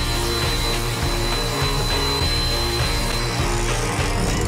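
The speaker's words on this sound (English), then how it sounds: "Whisk." Electric whisk whipping cream cheese and cream in a kitchen, a loud steady motor whir held close and continuous for a few seconds, with no talking.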